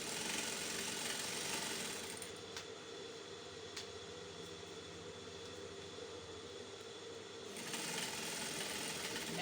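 A sewing machine stitching kimono jacket pieces together with a half-inch seam allowance, a steady mechanical drone running continuously with a slightly quieter stretch in the middle, no talking.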